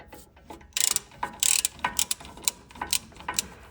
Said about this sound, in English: Just going to get back onto a ratchet and just take the bolts out.